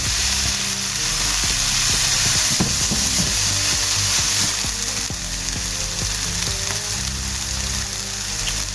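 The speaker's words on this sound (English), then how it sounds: "you can see the onions have started to cook down, the garlic is cooked down" Chorizo, onions and garlic sizzle loudly in a pan with a dense, continuous crackle, joined by intermittent clicks and scrapes of stirring, close and without talk.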